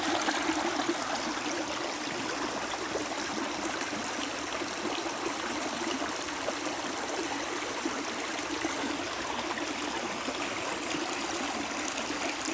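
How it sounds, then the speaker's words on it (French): A small stream flows steadily in a garden setting, giving an even rushing, trickling wash that stays constant throughout. Nearby and moderately loud, with no voices. "avec le débit du petit ruisseau qui change régulièrement chez nous"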